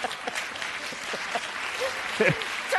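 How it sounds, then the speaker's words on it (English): Audience applause and clapping during a political talk show taping, steady and moderately distant, with scattered voices and brief vocal bursts over it. "So I love how they clap."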